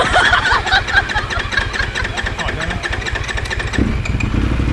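A big-bike motorcycle engine runs steadily and cannot be switched off, a close, loud, throbbing idle that continues under someone talking.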